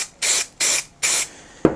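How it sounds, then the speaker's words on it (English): Spray glue hisses onto the back of a foam insert for a Milwaukee Packout toolbox in three even, close bursts of about the same length, followed by a single sharp click. "you can spray glue the back without having to worry about masking it off"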